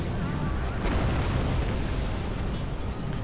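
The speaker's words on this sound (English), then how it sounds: "It's just more fun using fire ammunition. I mean, you get big explosions like that." Flaming catapult ammunition explodes in a Roma Surrectum 2 battle, producing a dense, continuous roar of booming blasts and rumbling bursts that stays loud throughout.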